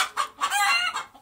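Roosters and hens kept on a house roof cluck and squawk in quick bursts, loud and close, with no other sound around them.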